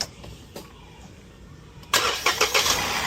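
A 3-cylinder EcoBoost turbo car engine, untampered with its fittings intact, cranks and catches at about two seconds, then settles into a loud, close running note with several quick revs.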